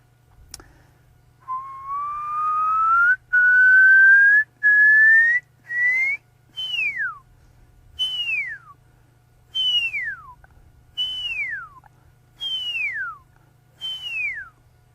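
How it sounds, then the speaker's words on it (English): A person on a safari whistles alone to call an animal, first a long rising note, then a series of evenly spaced falling whistles, clear and close. "I'm going to try and whistle for him once more."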